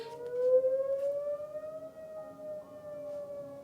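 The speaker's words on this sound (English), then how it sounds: "Storm siren." A storm siren wails in a single long sustained tone, rising slightly and then holding, clear and fairly loud over a quiet background.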